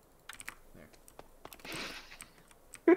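Computer keyboard keys tapped in a quick run of light clicks while building with signs in a medieval world, close and fairly quiet, ending in a louder sharp burst.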